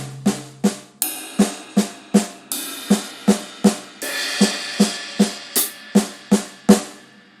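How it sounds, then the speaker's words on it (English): Drum kit playing paradiddle sticking spread across floor tom, rack tom and cymbals, a steady run of close, loud hits with cymbal wash ringing over the toms. "the right hand will go to the floor tom, left hand to the rack tom. We can also go to cymbals."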